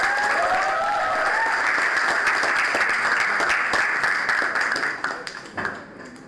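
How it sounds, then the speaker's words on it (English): A school audience applauds steadily and loudly at an awards event, the dense clapping holding for several seconds before thinning out and fading near the end. "the claps are not up to the decibel mark"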